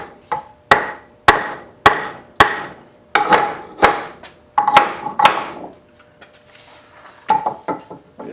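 Hammer taps on a Reed 105 metal vise under repair, a series of sharp, ringing metallic knocks at a steady rhythm, then lighter, sparser taps near the end, close and fairly loud with no talk.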